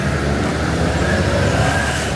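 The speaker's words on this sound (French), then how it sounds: "tous ces camions là qui passent" Trucks and other traffic pass along a street in Santo Domingo, Dominican Republic, a steady loud rumble of engines and road noise with no pauses or talking.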